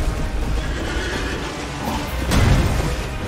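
A horse in the video game Elden Ring lets out a loud whinny over steady game background noise, followed by a heavier thud and rumble toward the end, with no talk.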